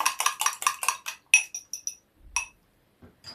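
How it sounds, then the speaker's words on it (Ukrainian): Rapid metallic clinking against glass as a fork stirs sugar, a quick run of bright taps, then a few scattered clinks and a pause. "Я додаю сюди дві чайні ложечки цукру, вилкою це перемішую"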